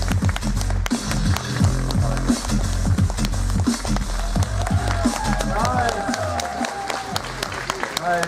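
An outdoor audience at Geek Picnic 2019 in Saint Petersburg applauds to welcome science author Leonard Mlodinow to the stage. Dense, steady clapping and crowd noise fill the whole stretch, with some music-like tones mixed underneath.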